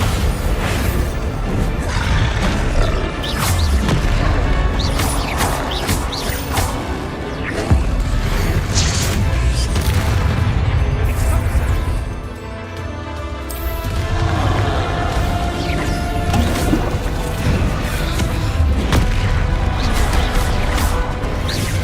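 Bombarda spell blasts in Hogwarts Legacy gameplay, dense and continuous explosive booms and crashes layered with whooshing magic effects and game music, loud throughout with a brief dip midway.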